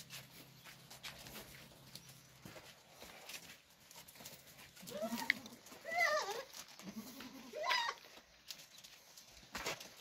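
Two goats bleat several times at moderate distance in a rural farm setting, the calls rising and wavering over faint background noise, with a few brief knocks and scuffs.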